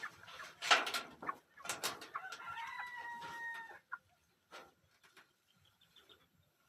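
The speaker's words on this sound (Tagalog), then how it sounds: "Kukunin ko muna yung mga sisiw." Chickens and a rooster heard at a backyard poultry setup, with clucking and a crow, then sparse quieter clucks and peeps toward the end, fairly faint, with no talking.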